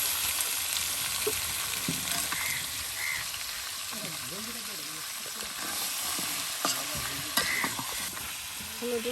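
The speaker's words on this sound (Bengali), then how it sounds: "এখন মাংসগুলো ভেজে নেওয়া হবে, তেলে একদম ভেজে নেওয়া হবে।" Chicken meat fries in oil in a home kitchen, a quiet continuous sizzle with scraping stirs and a few sharper clatters, while a voice sounds faintly now and then.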